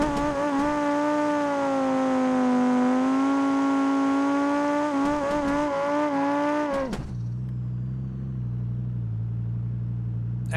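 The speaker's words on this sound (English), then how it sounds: "Actually seem to like holding that burnout a little more." Car burnout in BeamNG.drive, a red 200bx with a high-RPM head held at steady high revs, a loud sustained engine whine with tire squeal that abruptly drops to a lower idle-like drone near the end.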